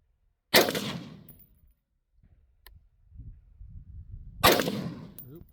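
Pistol gunshots at a shooting range: two loud, sharp shots roughly four seconds apart, each with a ringing, decaying tail, and faint shuffling and movement noises in between.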